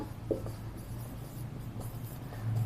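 Pen scratching on paper while a math proof is written out, close and continuous with a few sharper strokes over a low background hum.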